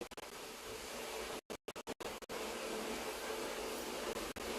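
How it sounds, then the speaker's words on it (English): Household vacuum cleaner running on its own, a steady broadband whoosh that cuts out in several brief gaps before droning on continuously. "my vacuum has decided to run, so I am sorry."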